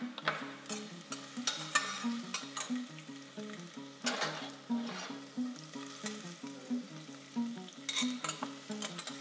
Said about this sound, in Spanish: Dejamos que se acitronen un poquito la cebolla y el ajo.